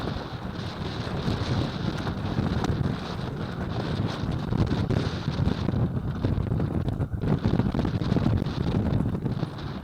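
Strong storm wind buffets an Achilles 24 sailboat, roaring steadily and loudly across the microphone with gusty rumble and water noise, no voices.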